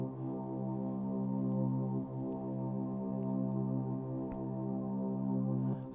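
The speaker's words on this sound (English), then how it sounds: "It's the Hollywood Strings Classical from Nexus." Hollywood Strings Classical patch from the Nexus plugin in an Afro house track, a sustained, smooth string chord holding steady and softly swelling, fairly quiet and alone.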